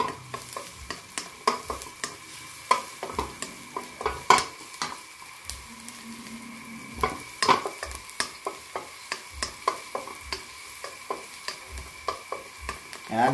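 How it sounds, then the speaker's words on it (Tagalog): Garlic browns in oil in a pan for asolang baboy, sizzling softly under repeated sharp scrapes and clacks of a utensil stirring against the pan. "Ayan, bawang. Brownin lang po natin."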